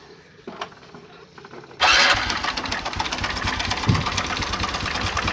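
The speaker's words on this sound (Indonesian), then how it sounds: "kita akan nyalakan lagi ya supaya teman-teman lebih paham daripada motor ini" A Honda Revo Absolute motorcycle engine turns over and catches after a quiet lead-in, then settles into a steady, close idle with a light ticking knock.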